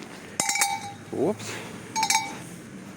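Small bells hanging at an outdoor ice sculpture display on a city square give two bright clusters of clinking chimes, each ringing briefly, with a short spoken interjection between them.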